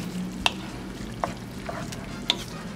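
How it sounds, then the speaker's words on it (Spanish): A spoon stirs spaghetti sauce with ground meat and a splash of added water in a pot. A soft simmering hiss runs throughout, with three distinct clinks of the utensil against the pot, close and quiet. "Ahora vamos a mezclar bien."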